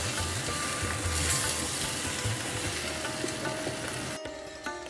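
Onions for a sabji frying in a clay pot, a dense continuous sizzle holding steady for several seconds before a brief clunk and a quieter close; no one speaks.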